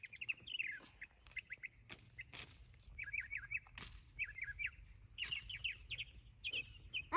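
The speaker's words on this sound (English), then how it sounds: "It's a robin." A robin sings outdoors in a series of quick, bright chirping phrases with short pauses between them, fairly faint and distant, with occasional clicks and bumps nearby.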